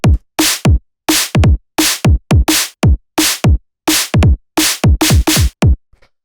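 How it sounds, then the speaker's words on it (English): Neurofunk kick and snare group built in Ableton, punchy alternating kick thumps and bright cracking snare hits in a steady tight rhythm, loud and dry, stopping with a faint tail. "you can hear we have the kick and the snare in a group together"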